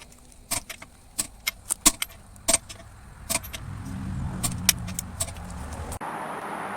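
A wrench torques the A/C compressor bolts on a Ram 3500 6.7 Cummins to 130 foot-pounds: a string of sharp, irregular metallic clicks close by, over a faint low rumble that grows in the second half.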